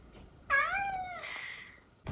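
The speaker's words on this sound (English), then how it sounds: "have you lost your meow?" Domestic cat giving a single drawn-out meow, close and clear, rising then sliding down over about a second against a quiet room, with a faint sound starting just at the end.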